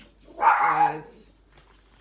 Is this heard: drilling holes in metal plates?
no